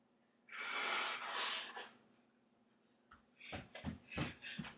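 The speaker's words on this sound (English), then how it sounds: "I gotta go blow my nose really quick." A person with a cold blowing their nose: two forceful nasal blows near the start, then a pause and a series of shorter sniffs and snorts, close and fairly quiet.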